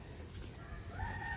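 A rooster crows at a distance, its drawn-out call rising faintly over a steady low rumble of outdoor background noise.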